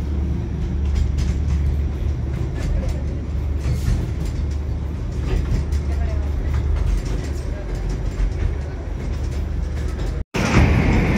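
The Darjeeling toy train rolls through town streets, heard from on board as a steady mechanical rumble with ratcheting clanks and rattles, plus a brief cut near the end.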